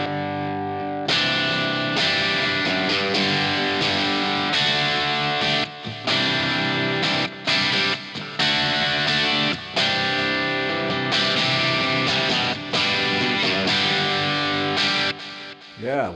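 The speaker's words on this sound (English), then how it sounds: "Let's take a listen to how it sounds when the pickups are split." A Schecter USA PT Custom electric guitar played through its split bridge pickup gives a loud, driven, distorted sound with strummed chords and short pauses, heard up close throughout.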